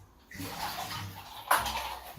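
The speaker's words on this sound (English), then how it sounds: "I'm just going to empty the water from these clams" Water emptied from a container of clams, a brief splashing pour that begins after a moment of quiet and surges once midway, close and fairly loud, with no talking.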